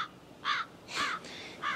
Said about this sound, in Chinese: 可恶的乌鸦，请不要这样配音效给我好不好？